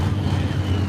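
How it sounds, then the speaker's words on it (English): A two-wheel-drive pulling truck's engine warms up at a truck and tractor pull in Miller's Tavern, Virginia, giving a brief, steady, deep motor rumble with no speech. "We got one of those two-wheel drives back there warming up the motor."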